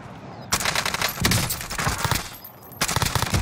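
Dense automatic fire from a shooter video game rattles loud and close, with rapid bursts that pause briefly and then resume.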